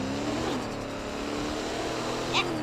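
A Roblox police car hums along with a steady low engine drone under ongoing game audio, joined near the end by a brief high chirp, while people talk faintly in the background.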